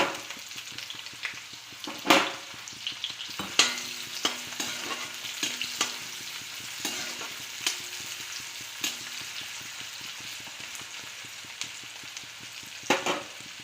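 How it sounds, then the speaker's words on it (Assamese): Chopped onions frying in hot oil in a home kitchen pan for an Assamese egg curry: a steady close sizzle with occasional sharp clatters of stirring. "তেলখিনি গৰম হ'ল এতিয়া অলপ পিঁয়াজ দি দিছোঁ"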